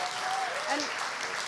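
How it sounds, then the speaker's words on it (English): An audience at a live event breaks into applause, a dense and steady wash of clapping heard from the room with a few voices mixed in. "Can I have a huge, massive round of applause for Lily Dunn?"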